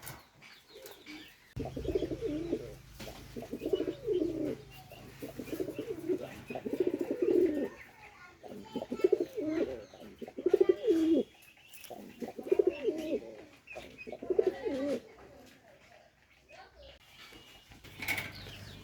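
A male pigeon, a new adult Khulna-generation bird, coos in repeated low throbbing phrases close by, with faint chirps and some background talk in between.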